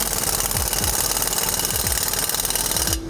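Ratcheting clicks from a 15mm socket tightening an exhaust clamp on a 3-inch catback system of a 2022-2024 Ford Maverick EcoBoost, repeated in short bursts over a steady loud mechanical hum, stopping at the end.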